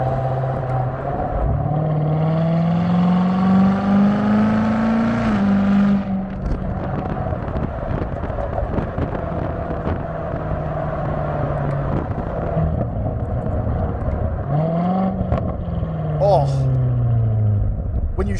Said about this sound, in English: when you shift a little bit lower in the RPM range, it makes these nice, consistent pops.